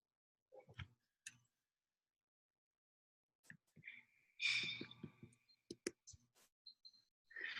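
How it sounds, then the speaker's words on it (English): Computer keyboard typing picked up through an open microphone, a sparse run of quiet clicks and taps that comes in short bursts with gaps of silence, close to the mic, no voices. "I can hear you typing"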